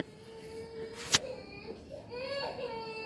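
A young child crying in a hospital corridor, brief wailing sobs rising and falling at a moderate distance, with a sharp clatter partway through and low background room noise.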